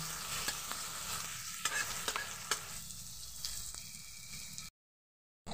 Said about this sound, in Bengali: দুটো পেঁয়াজকে আমি কুচিয়ে রেখেছিলাম, ওটাকে এবার আমি ভালোভাবে ভেজে নেব।